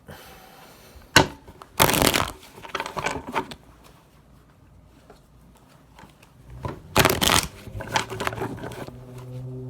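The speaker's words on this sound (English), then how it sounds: "I'm going to grab 5 cards and then go from there." Tarot cards being shuffled in bursts: a crisp riffle near the start, then another long burst later, with softer card handling between them, close and clear with no talk.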